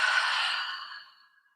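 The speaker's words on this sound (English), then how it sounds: "Inhale through the nose. Exhale, mouth open." A single long breath released through an open mouth during a yoga breathing exercise, a soft airy sigh that starts strong and fades gradually over about a second and a half.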